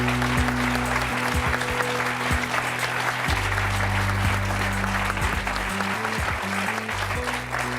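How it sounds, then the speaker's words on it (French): A French TV talk-show studio audience gives warm, sustained applause throughout, with dense clapping over a low musical tone underneath. "Je vous demande d'accueillir et d'applaudir chaleureusement Benoît."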